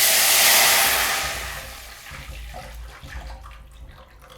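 A loud hissing sizzle erupts as rasam is poured into hot oil tempered with mustard seeds, fenugreek, dried red chilies and curry leaves, then fades over a few seconds into softer bubbling.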